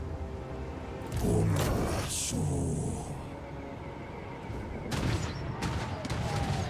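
Cannon fire in Total War: Warhammer III booms across a game battle, with heavy broadband blasts near the start and again after a quieter stretch, loud and close over a rumbling battlefield bed.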